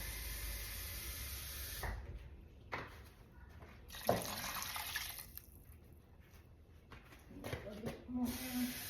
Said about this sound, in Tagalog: Tapos dagdagan natin ng kaunting tubig para may tubig siya kasi wala na tubig masyado.